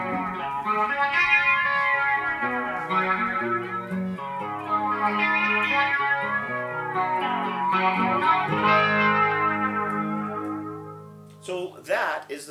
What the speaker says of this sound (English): So that is the flanger. And you can hear it's got a really dynamic sound. It's very cascading, it's swoopy and sweeping.